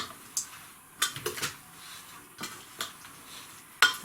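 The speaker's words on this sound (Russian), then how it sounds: "Смешиваем весь грунт." Orchid potting mix of soil and coconut chips being stirred and tossed by hand, giving soft scattered rustling scrapes and a few sharper clicks that stay close and fairly quiet, with no voices.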